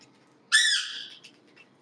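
A pet parrot gives a single loud, close squawk lasting about half a second, followed by a couple of faint short chirps in an otherwise quiet room.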